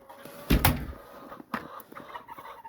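Chickens and turkeys cluck in a coop during a snowstorm, a few close, loud squawks and clucks in short bursts with rustling between them and no talking.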